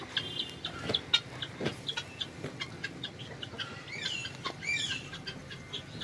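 Hens in a yard clucking and chirping while pecking at millet feed, with short scattered calls near and far over a faint background rustle.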